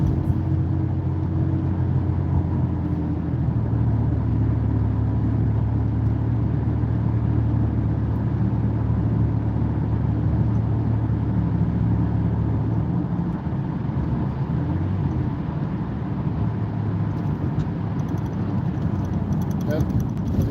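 Inside a car cruising steadily in its lane during a beginner driving lesson with the air conditioning on: a constant low road and engine rumble runs throughout beneath a person's talking.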